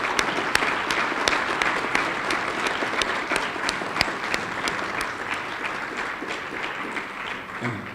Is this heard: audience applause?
yes